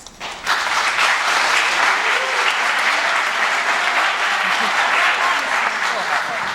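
A school ceremony audience breaks into sustained, loud applause that swells quickly and holds steady for several seconds, filling a large hall with dense clapping.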